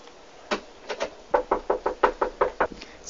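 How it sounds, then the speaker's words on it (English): Knuckles rapping on a bedroom door from a little sister, two early knocks and then a quick run of about eight evenly spaced raps, clear and fairly close. "Sorry about what's knocking on."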